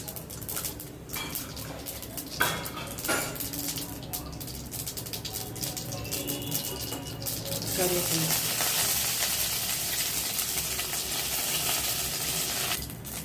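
Mustard seeds splutter in hot coconut oil: steady sizzling with scattered crackles and pops, growing louder and denser partway through, close up with no talking.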